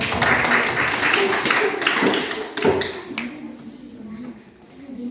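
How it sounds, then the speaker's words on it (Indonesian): A classroom group claps and applauds for the second presenting group, a close burst of scattered hand claps that thins out toward the end, with voices talking over it. "Tepuk tangan untuk kelompok 2."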